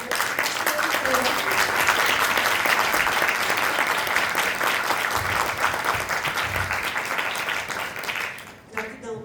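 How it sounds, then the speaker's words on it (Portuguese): An audience at a book launch bursts into sustained, dense applause that holds steady for several seconds before thinning out at the end. "eu gostaria de pedir uma salva de palmas,"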